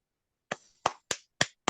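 A few separate claps sound close and sharp at an evening gathering of the Patriotas del Bicentenario in Peru, five distinct hits with short gaps, more like one or two people than a full audience.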